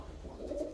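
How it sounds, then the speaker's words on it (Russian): A pigeon coos softly and close by in a short, low murmuring call over faint background noise. "Вот он, мой голубь."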